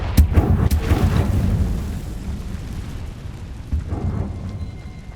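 Confringo blasting spell from the Hogwarts Legacy video game erupting in a loud, deep boom with a rumbling tail, followed moments later by a second, smaller rumbling burst.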